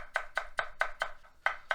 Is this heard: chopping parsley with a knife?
yes